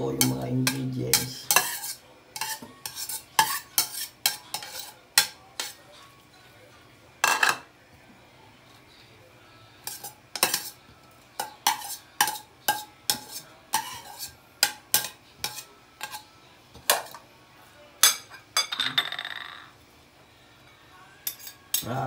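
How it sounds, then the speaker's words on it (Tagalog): Tuna omelette ingredients for tortang tuna are mixed in a bowl: close, irregular clinks and scrapes of a utensil against the dish, in quick bursts with short pauses, and no talking. "Paghalo-haloin nyo lang po yung mga ingredients."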